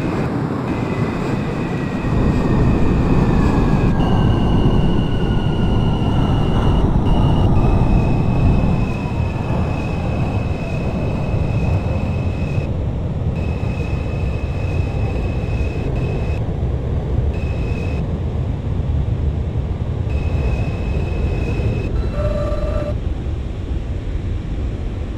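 An R160A-1 F local subway train in the OpenBVE simulator runs steadily with a loud rumble and rising motor whine, and tonal beeps and chimes sound at intervals from start to end.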